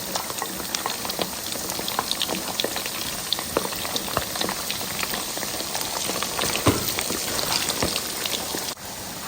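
Meat, ginger, garlic and pepper fry for Ghanaian shito, giving a close, steady sizzle with dense popping and crackling and no talk.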